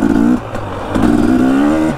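A dirt bike engine revving while off-roading without trails, close and loud, rising and falling in pitch with a brief dip mid-way before climbing again.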